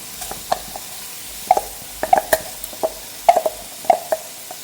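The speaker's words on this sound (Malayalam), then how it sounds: "ഇതിനൊന്ന് ഇളക്കി യോജിപ്പിച്ച് കൊടുക്കണം വല്ലാതെ ഫ്രൈ ചെയ്യൊന്നും വേണ്ട കുറച്ച് നേരം ഒന്ന് ഇളക്കി കൊടുത്താൽ മാത്രം മതി" A spoon stirring washed, soaked rice in a pan for pulao gives repeated scraping and gentle sizzling strokes in an uneven rhythm, close and fairly clear, with no talking.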